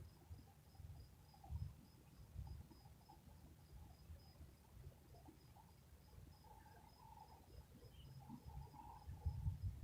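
Crickets chirp faintly at night in a repeating, thin pulsing pattern, set against soft low rumbles and background noise, distant and quiet with no talking.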